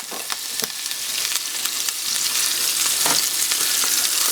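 Butter melts in a pan on medium heat, giving a close, continuous sizzling crackle with scattered pops that grows slightly louder and denser, with no voices.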